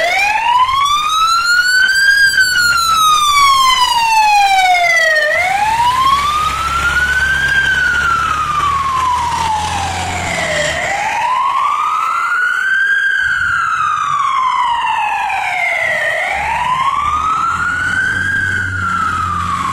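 Squad 2, an emergency medical vehicle, wails its siren on St. Claude Avenue across from Canal Street. The loud, close wail sweeps slowly up and down in long repeating cycles over traffic rumble.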